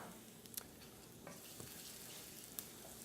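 Chopped garlic sizzles in olive oil in a hot skillet, a steady close frying hiss with a few sharp crackles and pops throughout.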